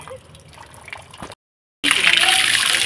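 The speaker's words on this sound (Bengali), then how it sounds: "বসে এখানে হাত পা ধুতে হচ্ছে" Water splashes and pours from a tap while someone washes hands and feet during a ritual, quiet dripping and faint voices at first, then after a brief silence a louder, steady gushing stream close by.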